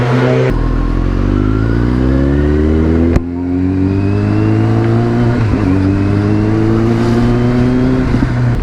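A Kawasaki Z900 superbike engine runs loud and close with a steady, smooth drone, its pitch rising gradually as the revs climb, with no one talking.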